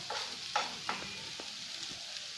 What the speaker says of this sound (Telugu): ఇప్పుడు ఒక్కసారి కలుపుకొని ఇందులో జీలకర్ర పౌడర్